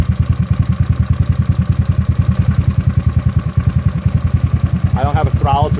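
A GY6 scooter engine fitted with an OKO PWK 30mm carburetor and decompression tube runs at a steady, close, loud idle, its rapid even putter going throughout while a person talks over it near the end.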